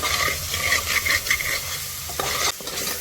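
Tomato frying in a pan with ginger, garlic, onion and green chilli for a chickpea curry, loud close sizzling with brisk scraping strokes of a spatula stirring the mixture, no speech.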